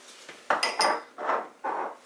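Clinks of a utensil against a bowl while stir-fry sauce ingredients including sugar and arrowroot are mixed together, several short close taps and scrapes in quick succession.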